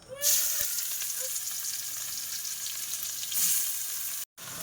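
Chopped onion dropped into hot oil in a kadai, a sudden loud sizzle that settles into a steady frying hiss, swelling again briefly near the end, with no voices.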